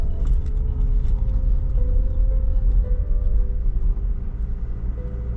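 A Honda CR-V 4x4 engine held at about 2000 rpm with the clutch disengaged gives a steady low rumble with a faint mechanical whine, constant and close, with no talk.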